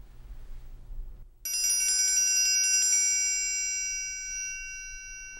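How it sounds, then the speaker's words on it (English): A metal triangle struck near its top corner by the clip gives a single thin, bright ring with high shimmering overtones, loud and close, sustaining and slowly fading after about a second of near silence. "If you use the top of the triangle closest to the clip, it is difficult to play using a 45 degree angle."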